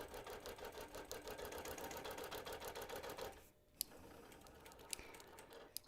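A sewing machine bastes a quilt with a steady, close mechanical whirr of needle strokes for about three seconds, then stops. A few faint ticks and clicks follow in the quieter pause.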